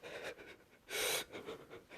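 A person breathes heavily and hesitantly, with uneven breaths and one sharp, strained gasp in the middle, close and quiet.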